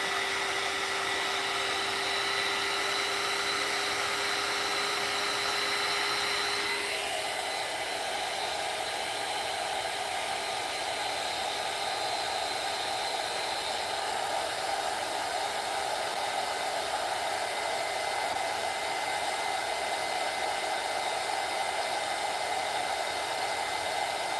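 A heat gun blowing steadily up close, a continuous airy whoosh with a motor hum that shifts pitch slightly a few seconds in and then holds unchanged to the end.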